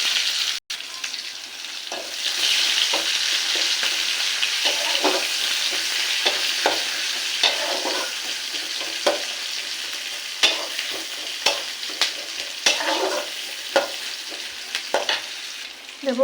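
Chopped onion and black cumin frying in oil in a wok, a steady close sizzle broken by regular scraping stirs that grow sharper toward the end, no one talking.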